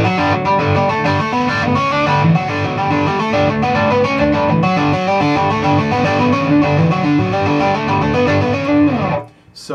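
An electric guitar plays the Angels and Airwaves Mercenaries riff in drop D tuning with a distorted, effects-laden tone, loud and continuous before cutting off abruptly as a voice briefly begins to speak.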